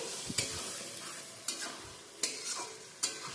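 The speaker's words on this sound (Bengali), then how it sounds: "আগে থেকে সেদ্ধ করে রাখা ছোলার ডাল দিয়ে দিলাম ছোলার ডাল ভালো করে আমি মিশিয়ে নিচ্ছি" Boiled chana dal being stirred into a sizzling pan, with four distinct scraping spoon strokes spaced about a second apart over a continuous close, moderately loud fry hiss, and no voices.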